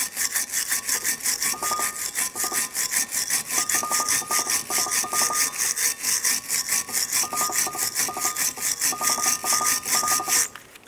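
Steady, loud back-and-forth scraping of a wire brush scrubbing rust from a brake caliper bracket on a 2007-2014 Chevy Silverado 2500 HD, fast rhythmic strokes continuing for about ten seconds with no talk.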